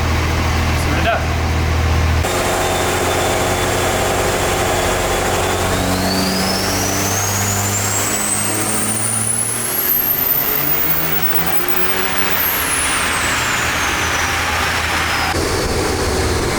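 A car engine at full throttle on a dyno, its pitch rising in a long sweep to a high whine before dropping off, loud and continuous, with a voice speaking at the start.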